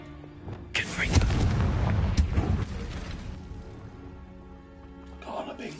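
A Confringo explosive spell goes off in Hogwarts Legacy as a sudden deep boom with a rumbling blast, followed by a decaying tail under game ambience and a speaking voice.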